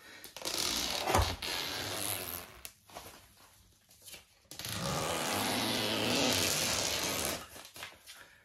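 Broad crackling, rustling noise as a plastic film is peeled away, in two long stretches with a sharp tearing burst near the start, close and fairly loud.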